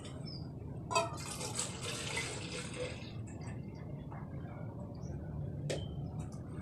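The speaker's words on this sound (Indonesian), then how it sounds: "setelah susu sudah disiapkan, ukurannya sekitar 500 ml. Nah, kita masukkan ke kaleng." Milk, about 500 ml, poured into a can to make ice cream in a colligative-properties chemistry experiment; a steady liquid fill and splash runs through the whole stretch, close and fairly quiet, with a brief louder splash near the start.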